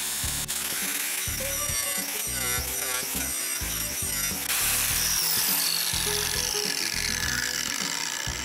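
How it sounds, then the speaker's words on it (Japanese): An angle grinder back-gouges a steel weld seam, a close, harsh continuous grinding with a rough pulsing texture that steadies into a brighter whine midway. "グラインダーで裏はつりする場合、薄刃でガイドを作ってから広げつつ掘り進めるとやりやすいと思います。"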